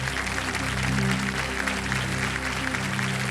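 Studio audience on a televised quiz show applauds a guest in welcome, a steady wash of clapping laid over a sustained musical tone underneath.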